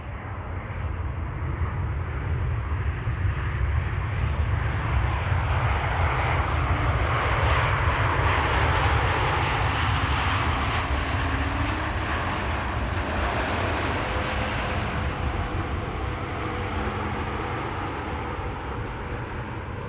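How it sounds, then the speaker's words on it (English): A Boeing 787 Dreamliner arriving from Cancun lands at Amsterdam Schiphol, a loud, sustained jet roar rising and passing close by, then easing into a steady distant rumble, with no voices. "Dreamliner arriving from Cancun in Mexico"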